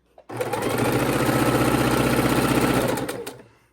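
A sewing machine stitching scrappy quilt pieces together runs in one continuous, steady burst of about three seconds, close up and alone, starting and stopping cleanly.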